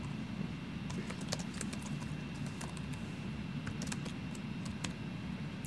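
Fingers type on a computer keyboard while a Word form is filled in, giving a quiet, irregular patter of key clicks over a low background hum. No one talks.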